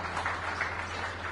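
An audience at a district administration dialogue event in Sukma applauds a forest minister, a brief burst of crowd clapping at moderate distance, fairly faint and steady.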